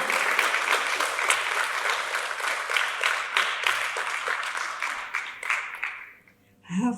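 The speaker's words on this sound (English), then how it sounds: "a massive round of applause up to the front for Laura" Dense audience applause at a talent show fills the room steadily for about six seconds, then fades out, leaving a brief moment of quiet before a voice comes in.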